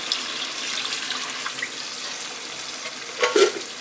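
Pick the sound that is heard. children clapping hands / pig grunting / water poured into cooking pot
water poured into cooking pot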